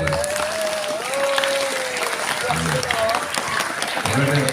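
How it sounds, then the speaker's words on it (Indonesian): Applause from a crowd at a Ramadan religious gathering, continuous clapping running throughout beneath a voice speaking over it. "Tepuk tangan Pak SMP 2"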